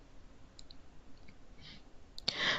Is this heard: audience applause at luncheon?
no